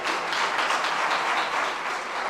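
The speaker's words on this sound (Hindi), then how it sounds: "जरा तालियां बजा दीजिएगा" An audience at a Jain religious question-and-answer discourse gives a continuous round of applause, an even wash of many hands clapping at moderate volume with no speech on top.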